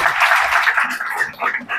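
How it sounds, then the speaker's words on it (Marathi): An audience at a women's achievement award ceremony applauds a recipient, giving a short burst of close, fairly loud clapping that thins out toward the end. "एकदा जोरदार टाळ्या झाल्या पाहिजे"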